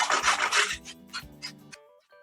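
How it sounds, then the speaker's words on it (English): A carrot is rubbed against a grater in quick rasping strokes. About four loud scraping passes are followed by a few slower, softer strokes close up, with no talking. "I'm going to use a grater after this to grate the carrot"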